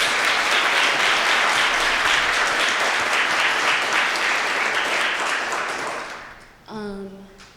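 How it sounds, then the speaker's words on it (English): Sustained audience applause at the close of a medical grand rounds session fills the room evenly for several seconds, then fades out as a voice begins speaking. "Can we get a round of applause again for our speakers?"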